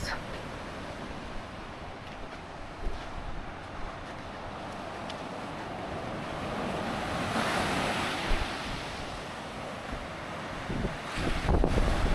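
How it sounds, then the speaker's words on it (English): Atlantic Ocean surf on a Florida beach rolls in and washes up the shore in a steady roar, with gusts of wind buffeting the microphone. "We found the Atlantic Ocean."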